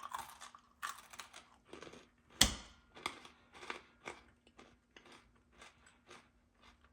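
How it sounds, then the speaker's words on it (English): Someone chews a piece of homemade microwave cashew brittle close to the microphone, giving a series of crisp crunches and bites. The crunches are irregular and start loud, then fade as the piece breaks down. "it's crunchy, but it's not hard."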